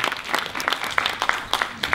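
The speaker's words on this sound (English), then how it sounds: "Give her a big hand." Audience applause for a child's drawing at the Mindful Market, a dense, steady patter of many hands clapping close by, lasting throughout with no pause.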